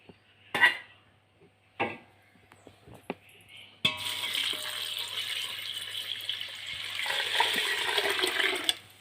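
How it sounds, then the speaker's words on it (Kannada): Water pours onto four cups of thick flattened rice (avalakki) for washing, a sustained gushing splash after a few sharp clinks and knocks of utensils. "ಈಗ ನೀರು ಹಾಕಬೇಕು, ನೀರು ಹಾಕ್ತೀನಿ."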